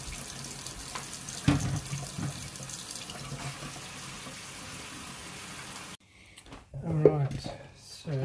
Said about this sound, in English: let's just give this all a bit of a rinse off